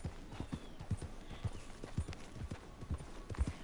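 Steady, evenly spaced hoofbeats from a horse in Red Dead Redemption 2 thud at a walking pace, soft and low, with no talking over them.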